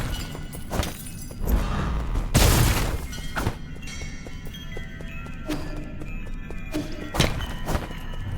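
An enemy explodes in the video game Nine Sols with a heavy burst of shattering impact, surrounded by scattered thuds and clanks from combat, loud and close.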